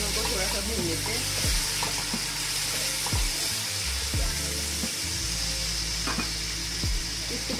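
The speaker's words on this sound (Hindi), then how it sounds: "सब्ज़ मिर्च हम शामिल कर लेते हैं और इन दोनों चीज़ों को थोड़ा सा भून लेते हैं।" Green chilies stir-fried in a pan for chicken pulao, a constant close sizzle broken by repeated scraping strokes of a spoon against the pan.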